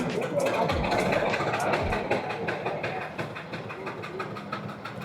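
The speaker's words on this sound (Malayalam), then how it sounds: "അവിടെ കിടക്കുന്ന എൻജിൻ ഓൺ ആയതാണ് കേട്ടോ." A train locomotive engine starts up at a railway station with a steady, loud diesel rumble and clanking, mixed with crowd noise and scattered station sounds.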